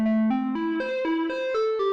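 A Korg Volca Modular synthesizer plays a stepping sequence of sustained tones, each note changing pitch every quarter second, with a wet, reverberant wash around them.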